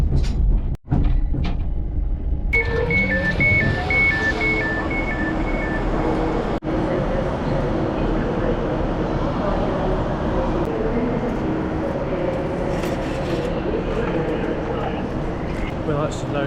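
Train arriving at Glasgow Central High Level on the run from Edinburgh, heard from inside the carriage as a steady rumble with rattles, door clunks and a two-tone chime, while someone talks over it throughout.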